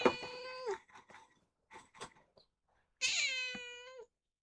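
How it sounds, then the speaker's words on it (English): A house cat meows close by, a drawn-out cry followed by small clicks and handling noises, then a second long, loud meow. "my cat wants to get involved"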